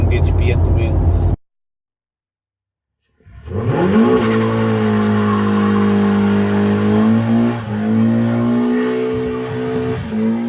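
A BMW 116i with a newly tuned exhaust sits briefly silent, then revs hard, its note sweeping upward and holding high with wavering pitch, loud and close.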